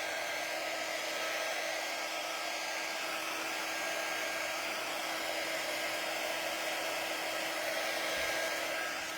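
A hair dryer blows on big bold printed letters on a DIY T-shirt, giving a steady, even whir at low volume for the whole stretch, with no talking.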